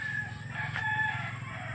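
A newly bought hen sounds up close, a short clucking call rising briefly over a low, steady background hum.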